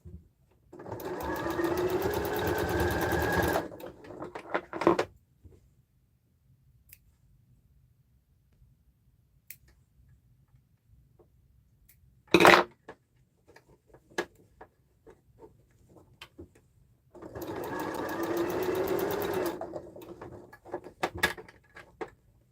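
A sewing machine stitches a sling bag in two bursts of steady rapid whirring, close and fairly loud, separated by quiet handling clicks and a sharp single knock in the pause.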